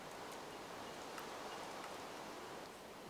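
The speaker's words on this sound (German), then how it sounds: "Der Regen nervt ein bisschen." Steady rain falls in the video game Minecraft, a constant even hiss with faint scattered drop ticks, alone without talk.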